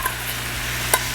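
Salmon with a honey brown sugar glaze cooking in a pan, a steady close sizzle with a brief sharper spatter near the end.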